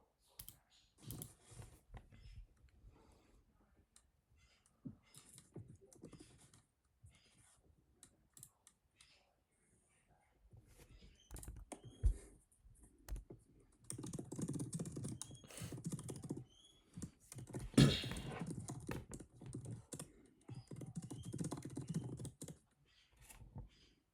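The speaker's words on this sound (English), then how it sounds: "Sorry if you guys can hear the background noise. It's my bad. This is just fucking typing" Keyboard typing clatters steadily for the whole stretch, soft at first and growing busier and louder midway, with bursts of rapid key clicks close by.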